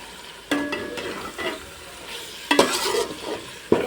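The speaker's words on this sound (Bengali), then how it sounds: "পটলগুলো দিয়ে একটু নেড়ে চেড়ে নিয়েছি" Pointed gourd that was fried earlier is stirred in spiced oil in a pan with a sugar pinch. A spatula gives three sharp scrapes and clatters over a low, continuous sizzle, close up and without talk.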